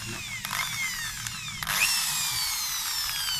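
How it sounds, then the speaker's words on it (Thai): A power drill bores a hole through a door to fit a knob lock, whining loudly and steadily up close, with a couple of brief shifts in pitch as the bit bites into the wood. "วันนี้เขามาเจาะหูนี้ก่อน"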